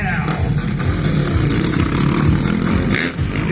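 Motocross motorcycle engine revving at a freestyle show at the Calgary Stampede, a steady loud buzzing drone with short throttle blips, mixed with arena crowd noise and an announcer talking over it.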